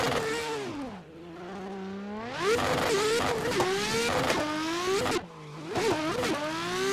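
A Nissan Skyline R33 pro drift car in Assetto Corsa, driven with a 900-degree steering wheel, revs hard and loud throughout. Its pitch climbs and drops repeatedly through aggressive throttle blips, with brief dips between surges.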